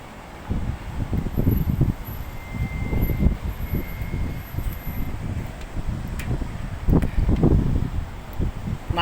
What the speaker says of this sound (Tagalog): Mahangin yan